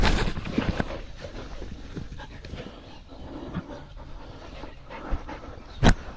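Dogs pant in quick breathy rhythm close by, with scattered thumps, rustles and movement noise around them, and one brief sharp knock near the end.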